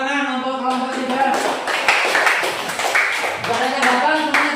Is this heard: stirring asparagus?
no